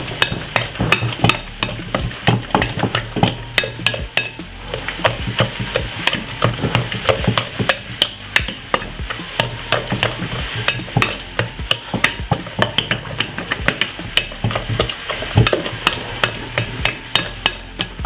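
Cooked potatoes being mashed into creamy mashed potato make a steady, fast run of close thuds, squelches and scraping strokes that continues without pause and without any talk.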